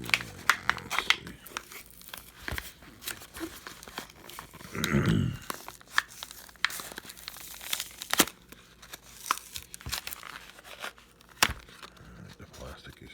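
Plastic packaging crinkles and tears while a screwdriver bit set is unboxed, with soft intermittent rustles and one louder crackling burst, under a person talking nearby.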